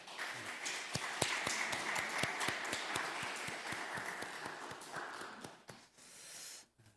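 Church congregation at a Wednesday service claps in welcome, a scattered burst of hand claps from a roomful of people that builds briefly and fades out after a few seconds.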